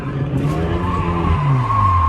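An automatic car drifting, its tires skidding and squealing loudly throughout while the engine drones under light feathered throttle, kept short of redline on an open dip.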